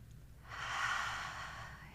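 A single deep breath, a soft, close airy rush that swells and fades over about a second and a half, quiet and without speech.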